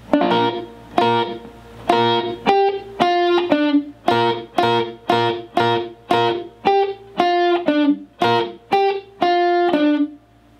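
Electric guitar plays a sweep lick, bright and distorted, with the same quick phrase repeated over and over in a loud, continuous rhythmic stream with no voices.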